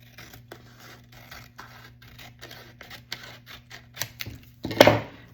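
Scissors snip through paper scraps for a junk journal, a series of short crisp cuts at close range ending in a louder rustle of paper being handled.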